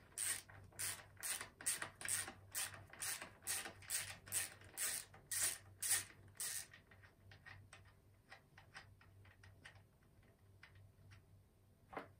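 A ratchet undoes the 10 mm brake caliper bolts on a motocross bike. A fast run of loud, even clicks slows into quieter, sparser ticks near the end.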